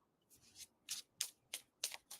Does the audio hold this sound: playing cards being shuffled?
yes